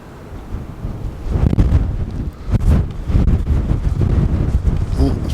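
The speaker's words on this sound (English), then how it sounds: "it's very, very windy out here today" Strong wind on the way down to a beach buffets the microphone in loud, gusty rumbles that rise and fall unevenly, with no talking.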